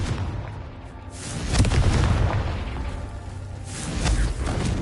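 Confringo blast curse explosion in the video game Hogwarts Legacy, a rumbling boom that swells and decays over a couple of seconds, followed by another lower blast, with no talk over it.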